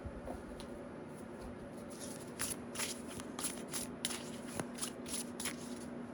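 Oracle cards being shuffled by hand at close range, a soft papery riffling patter that comes in bursts, with the clearest run of slaps in the latter half over a faint steady background hum.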